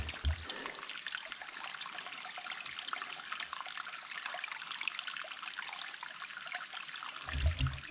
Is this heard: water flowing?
yes